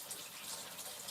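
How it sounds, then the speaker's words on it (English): Water runs steadily and faintly over beans in a colander, a soft continuous hiss and splash for about a second. "I put the beans in a colander and then, rinse them off."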